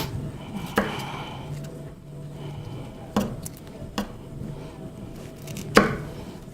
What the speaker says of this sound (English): So the Brussels sprouts, just to cook them a little faster, we'll take the ends off